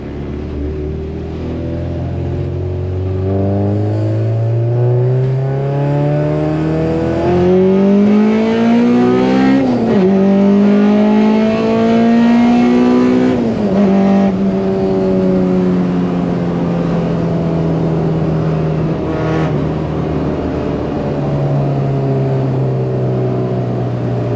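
A Honda Civic with a B20 VTEC engine accelerates hard in second gear, its engine note rising steadily in pitch toward a high-revving howl. It sounds loud and continuous, with a brief dip in the middle, and no one speaks.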